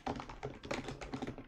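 Rapid typing on a computer keyboard, close and fairly quiet, a continuous run of crisp key taps with no talk over it.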